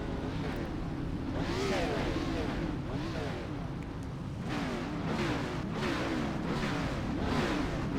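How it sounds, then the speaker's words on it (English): A NASCAR-style race car engine in the iRacing game roars and revs in repeated rising surges, loud and steady throughout, with a voice talking over it. "The engine fired. There we go."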